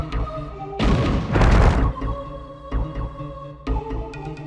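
A bomb explodes in the video game Alundra, a loud burst of noisy rumble lasting about a second amid game music and a few sharper thuds.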